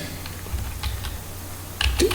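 Light typing on a computer keyboard while entering a spreadsheet formula: a few scattered key taps, then a quick cluster of clicks near the end, close and moderately soft over a low background hum.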